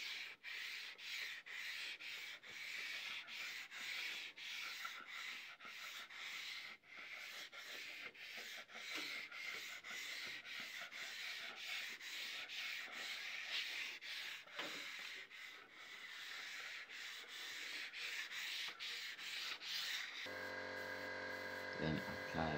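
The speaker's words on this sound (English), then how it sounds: "I then sand all the edges by hand." Wooden TV stand edges are sanded by hand, a continuous close rubbing rasp with quick repeated strokes throughout.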